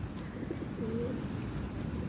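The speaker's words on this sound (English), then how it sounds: "Hey, look, some birds are leaving now." Pigeons coo softly in an outdoor park, a low, brief murmuring call rising once from steady ambient background noise, with no talking.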